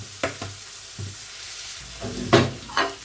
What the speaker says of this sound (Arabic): هذه مطيشه نقليها معاها